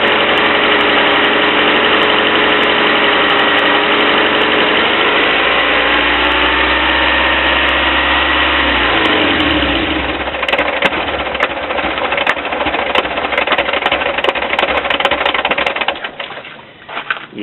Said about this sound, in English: the Toyota likes to do that now and then, run on with the ignition turned off